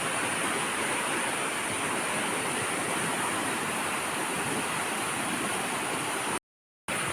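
A river in flood after rain rushes past in a dense, unbroken roar, loud and close, that cuts off abruptly for a moment near the end.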